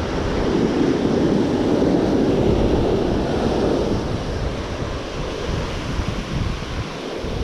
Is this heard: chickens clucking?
no